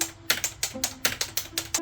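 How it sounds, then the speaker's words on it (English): A robot types steadily on a computer keyboard, with crisp, evenly spaced key clacks repeating about every few tenths of a second, close and clear, with a faint tone underneath and no talking. "I am a keyboard typing robot who makes you look like you are working"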